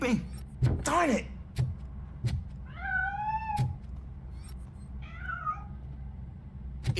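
A cat in Robocop: Rogue City meows twice, a clear drawn-out mew then a shorter one, amid sharp knocks and thuds, with a voice briefly heard near the start.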